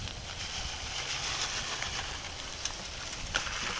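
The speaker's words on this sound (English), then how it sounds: "Ain't helping with the wind blowing" Wind gusting through an outdoor vegetable garden while winter greens are being seeded, a steady broadband rush with slight surges, moderately loud and continuous throughout with no voices.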